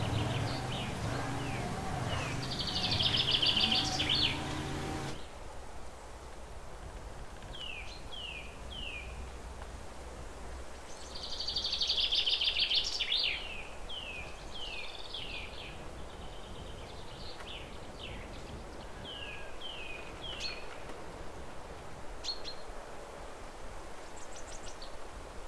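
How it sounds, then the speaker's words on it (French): Small songbirds sing outdoors in the countryside, with repeated short chirps and trills that stand out from a steady ambient hiss and return several times in bursts, at a moderate distance. "il y a toujours un petit peu un oiseau quelque part"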